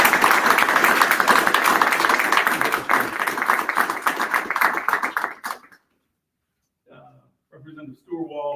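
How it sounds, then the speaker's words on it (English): A township board meeting audience gives a round of applause for a firefighter: dense, steady clapping from a roomful of people for about five seconds, then it stops abruptly and talk resumes. "So I'd like to give her a round of applause and appreciate having her on board."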